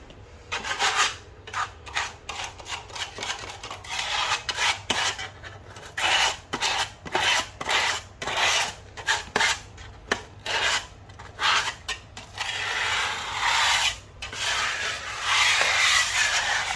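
A trowel spreads tile adhesive across ceramic tile in repeated rasping, scraping strokes, close up, with short pauses between passes and a longer continuous smear toward the end.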